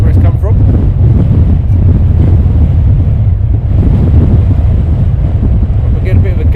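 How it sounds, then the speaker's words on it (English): A gust of wind at Luton Airport, a steady, loud rushing roar buffeting the microphone for several seconds, close and continuous with no break. "We're getting a bit of a gust at the moment."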